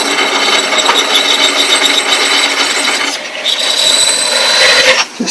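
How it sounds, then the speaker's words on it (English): A rotary grinding tool working the back of the eye socket of a sculpted head, a continuous high rasping whine with small variations in pitch and pressure, close and loud with no talking. "I'm going to grind out a little more in the back of the eye here."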